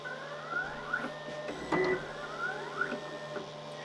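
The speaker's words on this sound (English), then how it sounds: "And now I'm going to put on the printer again" A Da Vinci Pro 3D printer fitted with an E3D v6 hot end runs close by, its stepper motors whirring in repeated rising and falling pitch sweeps over a steady electrical hum, with no one speaking.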